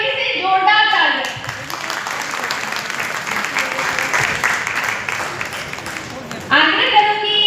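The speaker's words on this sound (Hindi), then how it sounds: "मातृशक्ति के लिए एक बार फिर से जोरदार तालियां।" An auditorium audience breaks into loud, sustained applause at a stage event honouring mothers, dense clapping filling several seconds between stretches of amplified talk over the speakers.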